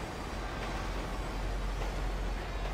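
A train rumbling past in the video game GTA V, a steady, loud, continuous roar of rolling wheels with no speech.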